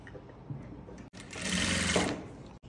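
A sewing machine stitches kurti fabric in a short, close burst of rapid whirring that rises after a quiet start and cuts off near the end, with no speech.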